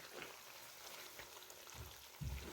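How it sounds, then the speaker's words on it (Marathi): Fenugreek seeds and mustard dal stirred in hot oil for a fresh turmeric pickle, a quiet sizzle and crackle with soft scraping of the spoon and a louder stir near the end. "मेथी दाणा सगळं टाकून द्यायचं आणि व्यवस्थित हलवून घ्यायचं लगेच"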